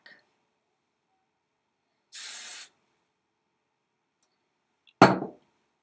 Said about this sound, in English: now we're going to spray